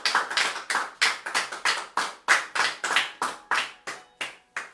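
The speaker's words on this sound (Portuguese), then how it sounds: "as palmas é para o Senhor Jesus" Rhythmic hand clapping by a church congregation during a Portuguese-language worship service, about fifteen sharp, evenly spaced claps in steady unison, close and fairly loud with no talking.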